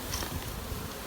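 A honeybee swarm hums and buzzes close by while being brushed into a box, a dense continuous drone with soft rustling.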